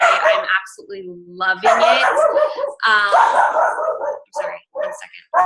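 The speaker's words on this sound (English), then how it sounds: "Excuse my dog if you hear him barking in the background randomly." A pet dog barks repeatedly in the background of an online video call. Someone talks over the barks and then breaks off briefly.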